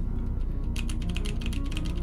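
Typing on a Polaris mechanical keyboard fitted with Zealio v2 switches, a steady run of close, crisp keystrokes over a constant low background hum.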